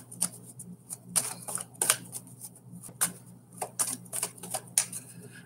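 Tarot cards shuffled for a fire-sign love reading, a run of quick crisp riffling bursts and taps close up, with soft pauses between them and no talk.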